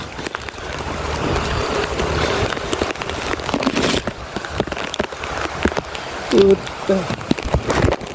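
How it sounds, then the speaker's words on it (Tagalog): Rain falls steadily on surfaces outdoors, a dense patter with individual drops ticking nearby, while someone speaks and mutters briefly over it. "Inula na nga."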